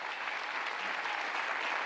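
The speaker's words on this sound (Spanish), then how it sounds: "Fuerte el aplauso" Hearty applause from the crowd at a 2023 flat-earth gathering, a brief, dense and even burst of clapping with no pauses.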